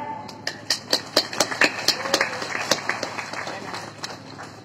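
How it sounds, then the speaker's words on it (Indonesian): Audience clapping at a comic wayang santri puppet show by Ki Dalang Surono in Pemalang, a burst of sharp, uneven claps that thins out toward the end. "Tepuk tangan."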